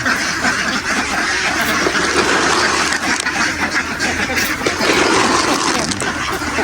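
A dense flock of farm ducks kept for egg laying quacks and chatters continuously at close range, a loud overlapping din, with a person speaking faintly amid the noise.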